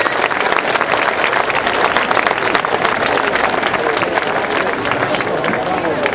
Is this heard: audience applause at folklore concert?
yes